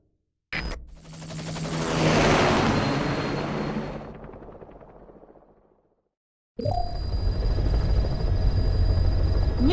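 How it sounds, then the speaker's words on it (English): Helicopter in the Metal Gear Solid 5 video game: a loud broadband rotor-and-engine roar swells up, peaks, then fades away over several seconds before another mechanical drone cuts in. "Just get in the chopper."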